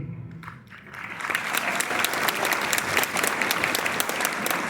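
At a school Republic Day program, an audience breaks into steady clapping after a brief quiet moment, many hands beating together in a sustained, moderately loud wash.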